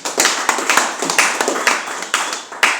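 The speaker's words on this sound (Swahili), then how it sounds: "Makofi kwa Yesu." A church congregation claps together during a sermon, a loud, rhythmic run of close hand claps at a brisk, even pace.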